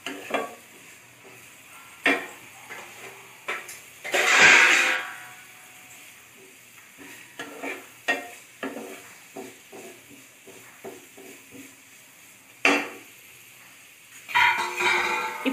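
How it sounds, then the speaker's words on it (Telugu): Coriander frying in a pan for barley soup: scattered stirring clinks and scrapes with short bursts of sizzle, loudest around the middle and near the end, with no talking. "అలాగే కొద్దిగా కొత్తిమీర వేసి కొద్దిగా ఫ్రై అయ్యేదాకా ఉండనివ్వాలండి"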